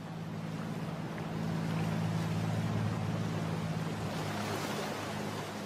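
A working fishing trawler at sea drags a trawl net fitted with a turtle exclusion device, giving a steady low engine drone with water wash and wind noise that swells slightly midway and holds at a constant level throughout.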